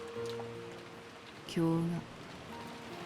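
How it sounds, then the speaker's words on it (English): Steady, soft rainfall forms a faint wash beneath a brief Japanese voice and a short tonal sound. The rain effect comes from the visual novel game Umineko When They Cry. "The inside of the room was commanded by the stillness of the sound of the rain."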